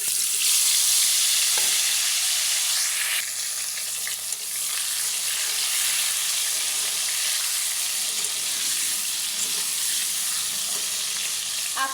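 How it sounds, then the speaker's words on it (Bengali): Potatoes seasoned with turmeric and salt frying in hot oil, a loud continuous close-up sizzle with faint scrapes of stirring and no voices. "তেলটা গরম হয়ে গেছে, আর আলুটা দিয়ে দিব।"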